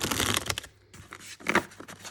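Prototype tarot cards printed on double-sided cardstock being shuffled by hand, a close, brisk papery riffling in two bursts separated by a short pause, with no talking.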